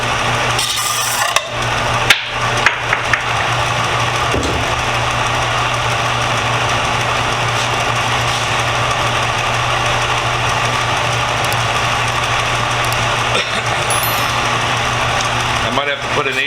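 A belt sander fitted with a 120 grit belt grinds on a screwdriver handle during restoration, a loud continuous rasping hum with brief tool contacts, and a person talks throughout.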